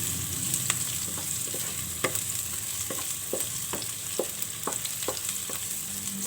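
Sardines and sliced onion fry in a pan with a steady bright sizzle, while a utensil stirs and scrapes the pan in repeated short strokes roughly every half second, close up, with no voices.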